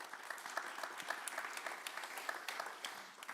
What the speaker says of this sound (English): A warm round of applause for our panelists